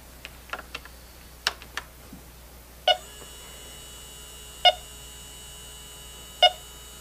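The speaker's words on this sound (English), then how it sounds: "You try to turn on your leak detector," A Yellow Jacket Accuprobe refrigerant leak detector switching on gives three clear, evenly spaced electronic beeps, about every one and a half seconds, preceded by a few light clicks and taps of handling.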